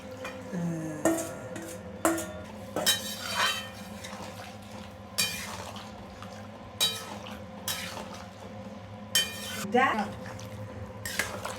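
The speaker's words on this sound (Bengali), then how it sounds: "মাশরুম পকোড়াগুলো দিয়ে দিলাম এর মধ্যে একটু নাড়াচাড়া করবো" Mushroom pakoras being stirred in a pan, with repeated metallic scrapes and clinks of a utensil at an irregular pace, close and moderately loud over a low background hum.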